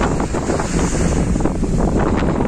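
Strong wind blows at the sea on Laginha beach, buffeting the microphone in a loud, continuous roar mixed with the wash of surf.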